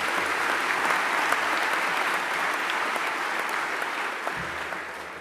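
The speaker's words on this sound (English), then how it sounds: "Give yourself a round of applause." A large Hall of Fame audience applauds in a big hall, a full, steady roar of clapping that holds strong and begins to taper slightly toward the end.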